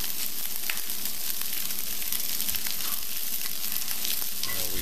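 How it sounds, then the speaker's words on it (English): Steady, loud sizzling of rice frying in a hot pan, with scraping and stirring sounds throughout, no voices. "It's gonna start frying here."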